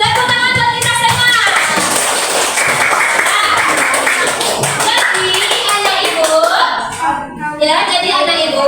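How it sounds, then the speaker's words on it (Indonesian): A classroom of pupils claps together in a lesson on the conquest of Mecca, dense steady applause filling the whole stretch with children's voices mixed in and a brief dip near the end. "Tepuk tangan buat kita semua."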